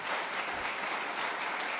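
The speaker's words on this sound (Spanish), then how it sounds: "Primero un aplauso a mi amigo." Dense, steady applause from a conference audience in Ávila, a continuous wash of many hands clapping at even volume throughout.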